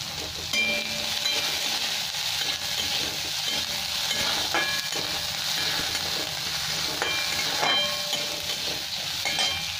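Green chillies and chopped onion sizzle and crackle steadily in a hot oiled pan for egg chilli, with occasional stirring scrapes and clinks over the continuous frying hiss.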